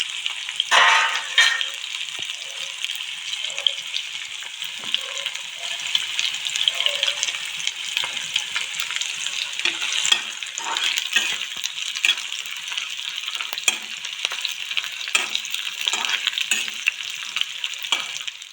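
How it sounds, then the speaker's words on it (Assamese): Bhut jolokia chillies and onions frying in hot oil, a constant crackling sizzle broken by sharp clicks and stirring knocks against the pan, close and loud throughout. "এতিয়া মই তেল গৰম হওঁতে ইয়াতে দিছোঁ ভোট জলকীয়া আৰু পিঁয়াজ"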